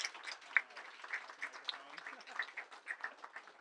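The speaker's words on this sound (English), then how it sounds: "Everybody, please give Russ an amazing round of applause." An audience gives a round of applause for Russ, a sponsorship organizer, with steady, moderately faint clapping filling the whole stretch and no spoken words over it.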